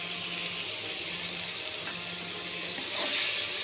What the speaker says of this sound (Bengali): এবারে দিয়ে দিচ্ছি তেঁতুলের জল।